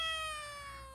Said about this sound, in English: he's a rare male calico cat